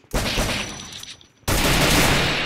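Gunfire from a shooting video game comes in two loud bursts of rapid automatic fire, the first dying away after about a second and the second cutting in abruptly and holding steady to the end.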